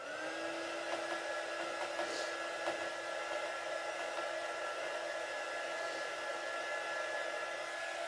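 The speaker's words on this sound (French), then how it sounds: "et là, je remets un tout petit coup de heat gun" A heat gun blows hot air onto an art journal page, a steady, close whooshing drone with a faint high whine that holds unbroken at even loudness throughout, with no voices.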